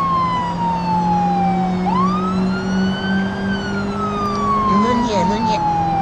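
A police car siren wails during a chase, loud and close, its pitch sweeping down, then rising and falling again over a steady engine drone. A shout breaks in near the end.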